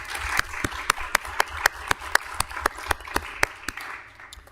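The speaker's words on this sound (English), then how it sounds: "Let's give our Red Cross and volunteers another round of applause." A city council meeting audience gives a round of applause for the Red Cross and volunteers, with sparse, distinct claps ringing out in an uneven rhythm for several seconds and fading toward the end.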